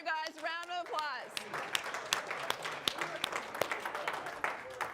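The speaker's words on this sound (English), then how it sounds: "Round of applause, you guys." Scattered audience clapping builds into applause after a voice speaks briefly at the start, the claps close and uneven, sparse enough to pick out single hand strikes.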